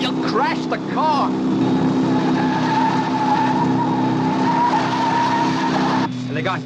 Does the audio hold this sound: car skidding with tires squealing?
yes